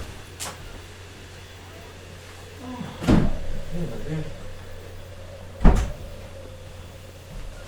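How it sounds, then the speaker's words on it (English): A door is shut twice indoors, each a sharp thud over a steady background hum from a running vacuum cleaner, with a few quieter knocks between the slams. "I'm going to shut the door."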